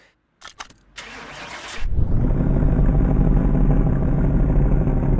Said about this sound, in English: let's start the car up because I haven't actually done that